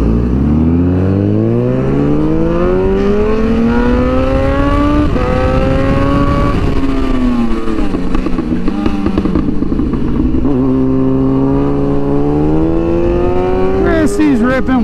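A sport motorcycle engine revs hard and steadily on the twisting Tail of the Dragon road at Deals Gap, pitch climbing and dropping through gear changes, loud and close throughout with wind rush.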